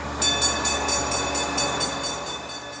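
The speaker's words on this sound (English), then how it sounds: "the one thing they couldn't miss was a ride on the cog train to Pikes Peak" The Pikes Peak cog train near Colorado Springs rolls along with a steady mechanical rumble and faint rhythmic clicking, heard close and continuous with no talking.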